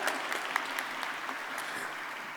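A crowd at an Atlanta youth celebration claps steadily, a dense, even wash of applause heard from a middle distance with no break.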